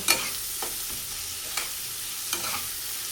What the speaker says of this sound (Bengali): পেঁয়াজগুলোকে আগে হালকা করে ভেজে নেব।